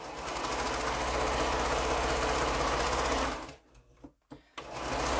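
A sewing machine runs steadily while stitching straight quilt seams, a loud, close, continuous mechanical whir that stops near the end, with a couple of brief bursts before it restarts.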